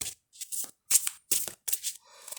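Tarot cards riffled and shuffled for a reading in several brisk bursts with short pauses between, close and fairly quiet, no talking.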